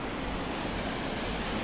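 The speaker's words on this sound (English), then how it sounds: "And that waterfall in the gap." Steady, dense rush of falling water from a waterfall in a gap of a Hungarian forest valley with rapids nearby, a continuous broadband roar at moderate level with no voices.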